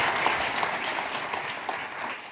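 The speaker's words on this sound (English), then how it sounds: "Give them a big round of applause, please." An audience applauds steadily at a panel event on AI and truth as two guests come up on stage, a dense, even wash of clapping held throughout without any voices.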